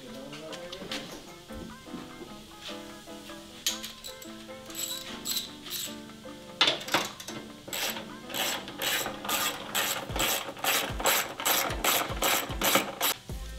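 A ratchet wrench clicks in rapid bursts while headlight bolts are undone on a Holden VX Commodore. The close, crisp clicking runs in quick repeated strokes, and the bursts speed up and get louder toward the end.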